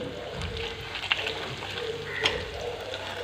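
Small shallots frying in a pan for a spicy Tamil onion kuzhambu, giving a steady soft sizzle throughout with a couple of brief sharper clinks of a utensil.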